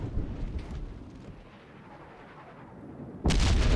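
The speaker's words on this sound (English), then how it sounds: "And that was one hell of a hit from the Nagato." A heavy shell hit from the battleship Nagato in World of Warships Legends lands as one loud, sudden explosive boom near the end, following a stretch of low rumbling battle ambience.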